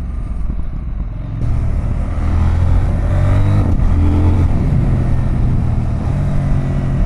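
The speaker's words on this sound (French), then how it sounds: "le shifter il passe vraiment tout seul" A CFMOTO 800 NK Advanced motorcycle accelerating hard, its engine note rising steadily through quick quickshifter gear changes, loud and close with a continuous low rumble and no talking.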